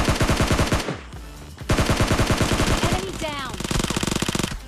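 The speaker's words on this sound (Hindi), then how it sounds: "और शॉटगन की एक बुलेट का फायर।" Gunfire from a mobile battle-royale shooter, PUBG Mobile Lite, with a shotgun blast among it: loud, rapid repeated shots in dense bursts, mixed with game music and effects, and a voice talking over parts of it.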